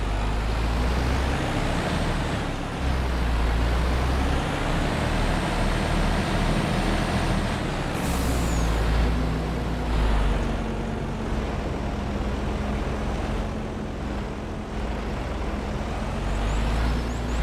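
A truck in Farming Simulator 25 drives with a steady, continuous engine drone and a low rumble, holding a constant level throughout with no talking.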